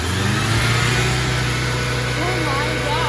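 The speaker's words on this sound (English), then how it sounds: "Now we're gonna turn the car on, run some pressure through the system, make sure it's not leaking anywhere," Mazda FC RX-7 rotary engine running after an oil change, a loud steady idle drone with a low buzzing tone, close by, while a person talks over it.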